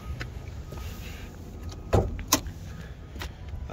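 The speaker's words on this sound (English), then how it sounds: "let's go ahead and open up the hood." Hood of a 2023 Subaru WRX being opened outdoors on a cloudy day: faint ambient hiss, then a sharp latch click followed by a second brief clack, fairly close and quiet.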